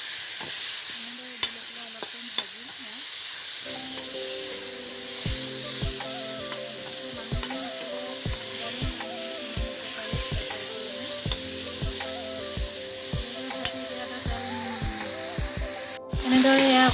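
Ground manimuni paste and potato frying in a pan make a steady sizzle, with a spoon scraping and stirring in a regular rhythm throughout, close and clear.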